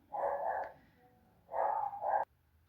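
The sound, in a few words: dogs barking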